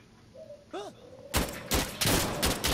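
Rapid bursts of gunfire erupt partway through a round of Insurgency: Sandstorm, a dense, loud volley of shots following a brief whistling hoot in an otherwise quiet indoor multi-floor mission.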